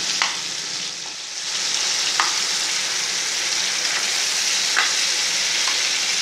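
Steady sizzling and bubbling of tomatoes cooking down in hot oil for a tomato pickle, an even frying hiss with a few faint clicks of stirring.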